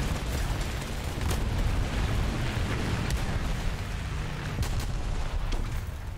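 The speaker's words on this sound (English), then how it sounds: "Artillery fire now?" Heavy artillery bombardment in War Thunder around a KV-2 tank, a continuous rumbling barrage of distant booms and blasts with a few sharper cracks, loud and dense throughout.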